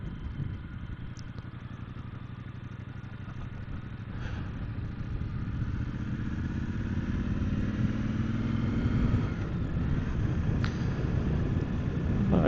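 A motorcycle engine runs steadily on a ride, its low rumble slowly rising as it accelerates, with wind noise and faint clatter layered over it and no talking.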